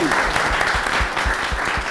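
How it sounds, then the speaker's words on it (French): Loud, steady applause from an audience at a talk event in Côte d'Ivoire, with many hands clapping densely and some rhythmic low thumps throughout, without talk on top. "Et notre invité, Nancy, je vous demande de l'applaudir."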